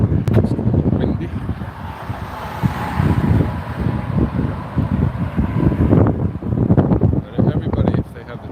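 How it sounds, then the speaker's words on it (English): Wind buffets the microphone with a steady low roar and gusty rumble throughout, with a few faint knocks and rustles. "It's a little windy."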